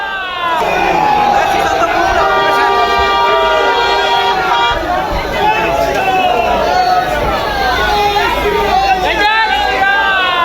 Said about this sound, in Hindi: जब पहुंचे हैं तो भारी भीड़ जुटी है।